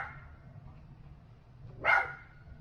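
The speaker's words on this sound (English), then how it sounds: "the mic does pick up the dog's bark" A small dog barks once from a dark outdoor yard, a single sharp, fairly distant yap rising out of a steady low background hum.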